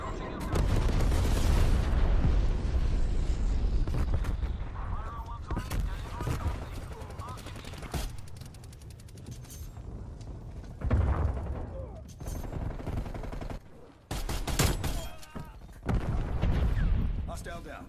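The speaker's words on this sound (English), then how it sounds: "Napalm strike, you are green to go." Repeated heavy explosions and booms from a napalm strike in the video game Black Ops Cold War, loud and continuous with brief gaps, mixed with gunfire and game voice callouts.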